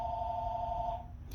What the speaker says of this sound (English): sorry about the phone, this always seems to happen to me.